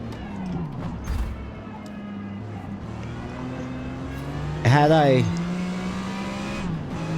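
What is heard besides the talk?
Jaguar XJR-5 race car engine in Forza Motorsport video game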